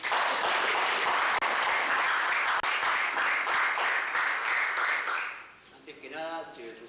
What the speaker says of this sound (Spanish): Fuertes aplausos al compañero.